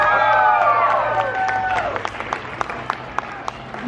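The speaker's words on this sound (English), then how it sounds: "Give yourselves a round of applause." A crowd claps and cheers at a March for Our Lives rally, loud at first and then thinning to scattered claps, with voices mixed in.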